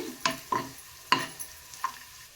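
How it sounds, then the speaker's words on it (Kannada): Garlic frying in hot oil as a sprig of curry leaves goes in for a pineapple curry, a few sharp spitting pops and crackles spaced irregularly over a quiet background, close and fairly soft, no talking. "ಎಣ್ಣೆಯಲ್ಲಿ ಬೆಳ್ಳುಳ್ಳಿ ಫ್ರೈ ಆದಮೇಲೆ ಒಂದು ಕಡ್ಡಿ ಕರಿಬೇವನ್ನು ಸೇರಿಸ್ತಾ ಇದ್ದೀನಿ"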